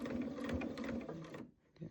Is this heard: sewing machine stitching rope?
yes